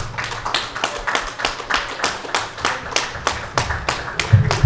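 An audience at a horror convention panel in New Jersey claps as guests come on stage, with a sparse, rhythmic clapping fairly close by and no talk over it.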